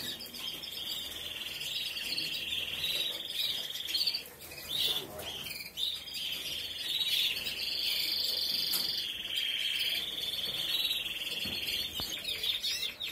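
Small birds in an aviary near the water trough chirp and twitter continuously in a high, busy chorus, with a few brief rustles and flutters mixed in.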